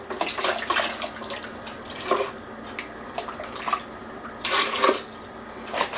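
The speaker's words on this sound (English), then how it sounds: "We'll rinse the blender bowl out." Tap water runs and splashes into a blender bowl being rinsed in a kitchen while making chili-sauce taco soup, with uneven bursts of flow and sloshing, close and moderately loud, no talking.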